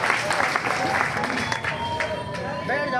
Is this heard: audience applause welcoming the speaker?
yes